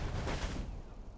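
A black hole cannon fires in the video game Saints Row 4, a loud rumbling blast that swells and then decays over about a second, with no talking.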